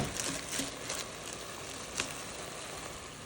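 Green onions and shallots go into a simmering Zimbabwean chicken stew with a steady broadband sizzle and a few soft pops and crackles, close by, with no voices.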